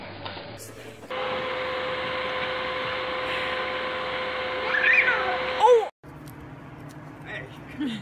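A cat meows a couple of times, close by, over a steady mechanical hum, with a person talking softly nearby.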